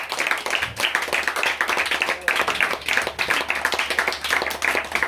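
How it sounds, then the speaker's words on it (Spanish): Steady applause from a small group at a birthday party celebration, brisk close handclaps sustained throughout without talk over them. "Bueno, hoy sí, aplauso para Blanca."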